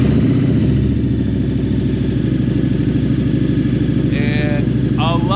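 A Harley-Davidson V-Rod engine with a super intake idles steadily with a deep, throbbing exhaust rumble throughout, close and loud; brief high squeaky tones appear near the end.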